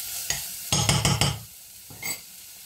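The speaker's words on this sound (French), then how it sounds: "On mélange bien." Spoon stirring a mushroom sauce made with dried mushrooms in a pan, several quick scraping strokes in a burst with a later single stir, close and fairly loud, with no talk.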